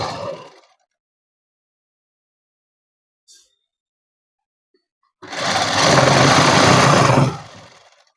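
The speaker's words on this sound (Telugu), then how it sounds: "ఇలాగా నెట్ క్లాత్ మాత్రమే కుట్టు వేసేయండి." Sewing machine stitching net cloth for a dress, a short whir at the start, then near silence, then a loud close steady run of rapid stitching lasting about two seconds before winding down.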